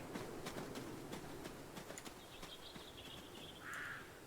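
Horse hooves clip-clopping at a slow, steady walk in the Adios video game, faint and somewhat distant, with a brief bird chirp near the end.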